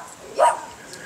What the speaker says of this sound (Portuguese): Um cachorro latindo pra minha câmera ali.